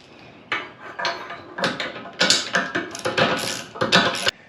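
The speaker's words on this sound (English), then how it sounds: "I went ahead and tightened the wedge bolt using a 3/4 inch socket" A 3/4 inch socket tightens the wedge bolt on a WILCO Off Road Hitchgate carrier in a hitch receiver, giving a run of close mechanical clicks, creaks and ratcheting bursts in uneven spurts over a few seconds, with no talking.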